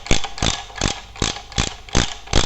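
Spanner ratcheting on a bicycle wheel axle nut during wheel assembly, six close, crisp clicking bursts in a quick regular rhythm, alone with no talk.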